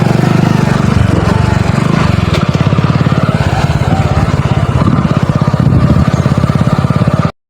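A Hero HF Deluxe motorcycle engine throbs loudly and continuously at close range, its rapid pulsing steady as the bike rides along at low speed, then cuts off abruptly.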